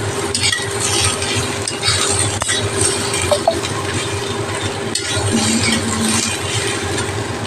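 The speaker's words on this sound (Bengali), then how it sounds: "একটু ভাজা ভাজা করে নেবো।" Jackfruit curry with potatoes, tomatoes, green chillies and grated ginger frying in a pan, a steady sizzle with clinks and scrapes of a spoon stirring throughout, close and moderately loud, no voices.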